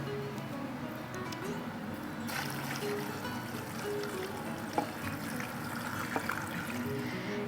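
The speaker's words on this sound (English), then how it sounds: "next we're going to be filling this up with warm water" Warm water pours steadily into a jar packed with chicken, peppercorns, a bay leaf and vegetables, a faint continuous trickle and splash with a couple of small clinks, heard alone.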